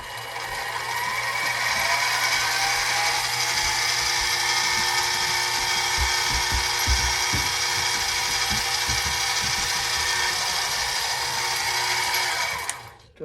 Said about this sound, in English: And we'll drill the hole.